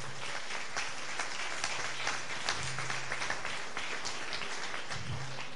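An audience at a church service claps for the Lord after a preacher's song, a fairly faint, continuous patter of many hands with a low hum underneath.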